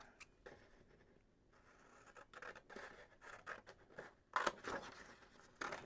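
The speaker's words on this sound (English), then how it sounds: "Go ahead and cut it out so that I can have it just instead of the full page." Several crisp snipping and rustling bursts of scissors cutting paper, close and fairly quiet, irregular with brief pauses between cuts.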